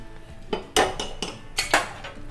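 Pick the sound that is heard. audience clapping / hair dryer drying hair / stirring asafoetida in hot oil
stirring asafoetida in hot oil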